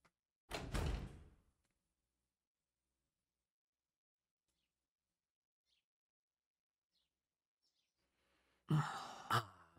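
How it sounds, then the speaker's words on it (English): A door in the Tsukihime Remake visual novel gives a short, sharp clunk, followed by a long near-silence, then another burst of clattering sound near the end. "Faintly, I can make out the click of the door."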